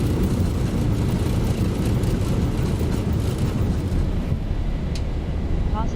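Jet engines roaring steadily at full power during a takeoff roll in a flight simulator running the Zibo mod Boeing 737, a loud, constant rumble that holds throughout.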